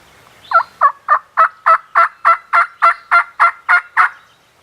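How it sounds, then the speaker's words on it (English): A wild turkey gobbler gobbles near the edge of a pasture field in the morning, a rapid run of about thirteen evenly spaced, loud gobbling pulses heard alone. "I had some birds gobbling pretty good"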